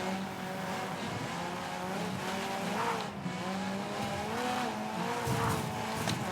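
Racing cars in the Gravel video game roar continuously with shifting engine pitch, tire squeal and skidding as one car rams into the back of a Vauxhall, loud and close.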